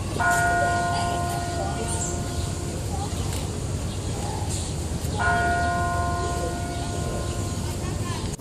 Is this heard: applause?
no